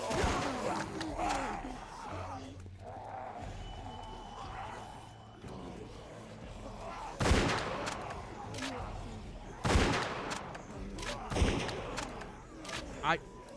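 Gunfire in The Walking Dead: The Telltale Series game, sharp loud shots at irregular intervals over tense music and low background rumble, with a few bursts standing out in the second half.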